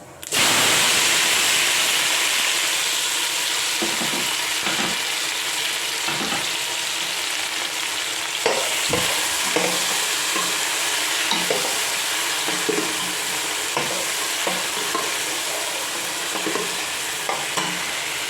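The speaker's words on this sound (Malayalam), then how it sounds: "കടുക് പൊട്ടിയതിന് ശേഷം നമ്മളിതിനകത്തേക്ക് തക്കാളി സവോളയും ഇടുകയാണ്." Tomato and onion go into a pan after popping mustard seeds for a Kerala mezhukkupuratti, producing a loud, sustained sizzle with repeated scraping stirs throughout, with no talking.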